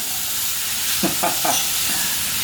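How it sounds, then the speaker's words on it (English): Stewed bodi beans fry and sizzle in a pot with a loud, constant hiss, while a few quick stirring scrapes rise briefly above it. "Hit that, another quick stir."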